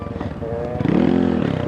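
A pit bike's engine revs up into a rising, steady drone during a circle wheelie, close and loud for about a second before easing off.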